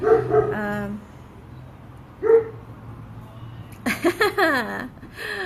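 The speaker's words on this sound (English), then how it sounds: "Both of these dogs are rescue dogs." Two rescue dogs bark and yip in short, close bursts: a few barks at the start, a single bark midway, then a rapid cluster near the end, with quiet gaps between.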